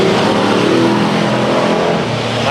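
Stock cars roar past during a 100-lap Pumpkin Smash enduro race at Madera Speedway in 2013, their engines forming a loud, steady drone close by with no gaps.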